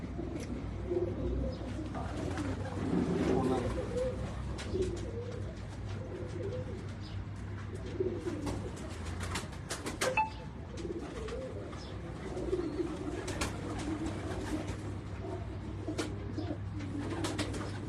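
Pigeons of a striped cross breed coo repeatedly, with soft throaty calls recurring across a steady background hum and occasional sharp clicks, fairly close and without speech.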